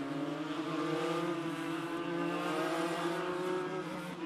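Legend race cars running a heat race for the Young Lions at Dominion Raceway, a steady loud roar of several engines holding a sustained droning pitch, with no talking.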